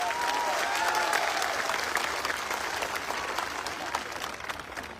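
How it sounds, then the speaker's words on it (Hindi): Sustained, dense audience applause in a large hall at a corporate gathering, steady and loud for about five seconds, tapering slightly toward the end. "सबसे पहले एक जोरदार तालियां आज आप अपने लिए बजाएं।"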